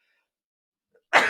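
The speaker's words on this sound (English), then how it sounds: "But there's that sneeze." A single sudden sneeze bursts out near and loud after a second of near silence, sharp and broadband, with a faint brief sound just before it.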